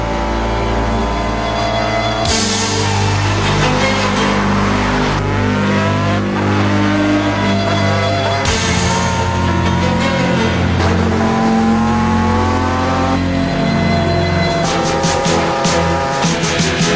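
A car and a street bike race round a track under two miles long, engines roaring loud and close with repeated revving surges and gear changes throughout.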